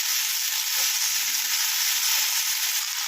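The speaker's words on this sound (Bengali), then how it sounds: "এবারে শাকটা ভাজতে থাকবো।" Red amaranth greens fry with onion in a pan, producing a steady, close, bright hiss of sizzling that holds evenly throughout with no talking.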